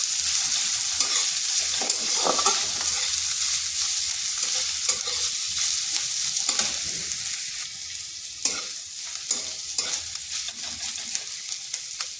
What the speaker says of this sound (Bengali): আঁচটা মিডিয়াম আঁচে করে পেঁয়াজটা হালকা ভেজে নিচ্ছি,